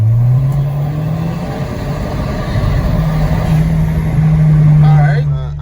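An Audi car engine in valet mode held at steady, high revs, a loud continuous drone close by that climbs slightly and then holds before easing off at the end.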